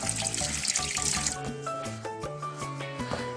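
Golden Delicious apples rinsed under a running kitchen tap while preparing roast turkey with baked apple; a steady close splash of water over the sink, with clinks and knocks of the fruit throughout, no talk.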